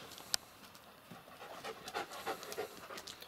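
A dog pants close by in quick, rhythmic breaths that grow louder toward the end, beside a Ford Ka being fitted with 19-inch BBS wheels, with a single sharp click near the start.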